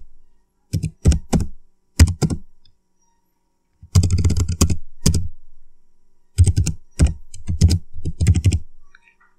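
Someone types a script on a computer keyboard: close, crisp key clicks come in three bursts, first a few scattered presses and then two longer runs of rapid typing, with silent gaps between them and no talking.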